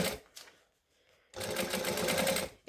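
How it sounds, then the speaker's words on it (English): A sewing machine top stitches fabric for a clutch, a short stuttering start and pause followed by a steady, close mechanical whir of rapid stitching. "I'm doing my top stitching at 1/8 of an inch"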